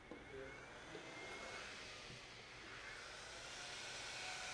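The cooling fan of a Bitaxe bitcoin miner blows hard in a steady, broad rush of air. The close, jet-like whoosh holds constant throughout with a slight swell near the end.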